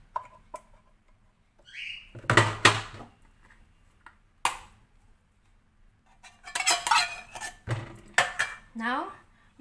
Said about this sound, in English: We need a spatula or a spoon to scrape this